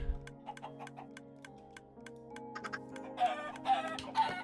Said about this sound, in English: I just have a chicken farm here